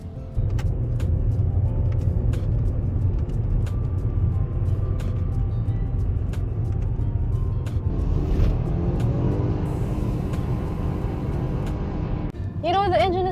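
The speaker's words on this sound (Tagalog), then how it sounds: "here's a sample of its quick shifting and banging of rev limiter" A Subaru WRX Wagon engine drones steadily from inside the car, then revs build, quick shifts follow, and the engine bounces off its rev limiter, all moderately loud and close.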